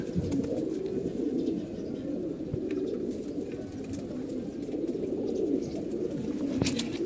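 Pigeons in a loft give a soft, continuous cooing close by at low volume, with faint rustling and a few small knocks mixed in.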